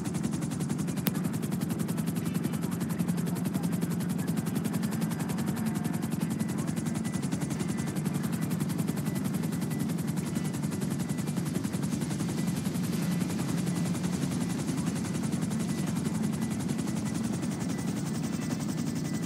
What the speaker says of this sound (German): Ich weiß nicht, warum Trevor hier im Helikopter am Rumdüsen ist